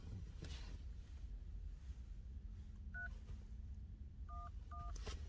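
Phone keypad tones dial a number, three short beeps spaced apart, heard faintly over steady wind and low background noise.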